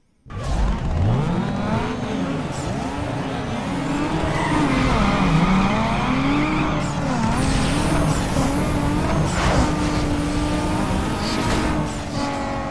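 A race car in the video game Need for Speed Underground 2 roars continuously at high revs with the engine strained, the pitch rising and falling through gear changes, while tires squeal and the sound stays loud throughout.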